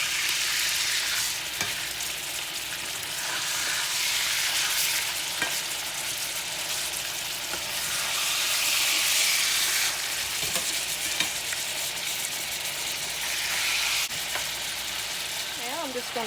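Homemade hamburger steak patties frying in a pan, a loud continuous sizzle and crackle throughout, with a few light utensil taps and a voice briefly at the end.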